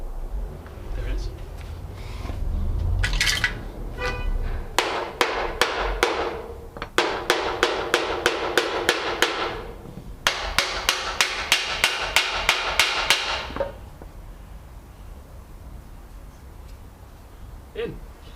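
A hammer knocks bolts into a race car subframe, delivering two long runs of rapid, evenly spaced metallic strikes with a short pause between them, close and loud, while a voice talks quietly at the start.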